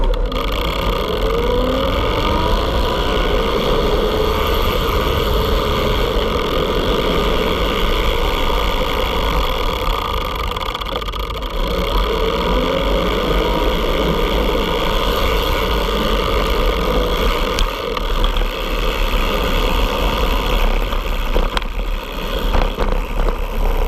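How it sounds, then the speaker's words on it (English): Blix Vika Travel electric bike riding along on throttle, a steady motor whine rising and falling in pitch over continuous road and wind rumble, with no talking. "This time I'm going to use the throttle to scoot around."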